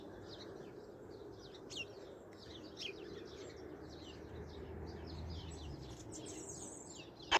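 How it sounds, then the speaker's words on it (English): Small birds chirp and trill steadily at a distance throughout a quiet late-winter walk, their quick repeated calls layered over a low outdoor hum, with one sharper note near the end. "Just listen to those birds."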